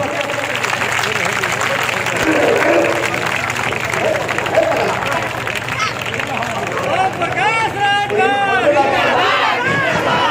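A large crowd at a political rally claps and cheers loudly to welcome a guest being garlanded, with dense, sustained applause mixed with crowd babble, shouting and whistles throughout.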